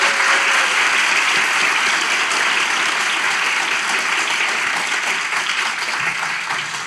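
A studio audience applauds loudly and continuously at the close of a comedy relationship-test show, a dense, even wash of clapping that fades slightly toward the end.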